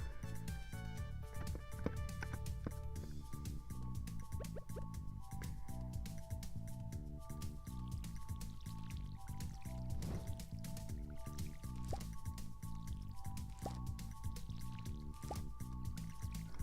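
Splashy drips and trickles from a watering can soaking crops in Stardew Valley repeat throughout, layered over steady game background music at low volume with no talking.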